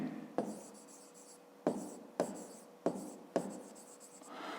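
Pen strokes on paper while writing out a fifth-grade math exercise about a side length, with five distinct bursts of scratchy writing separated by short pauses, close and fairly quiet, with no talking.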